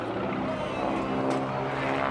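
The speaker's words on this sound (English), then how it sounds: "Slow rolls the aircraft around in a barrel roll." Steady, loud drone of a Harvard G-NWHF propeller aircraft rolling through a barrel roll at an air show, a continuous engine roar with no break across the clip.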